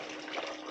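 Chicken or vegetable stock pours in a steady, even stream into a pot of squash soup, a brief, constant liquid splash at moderate volume.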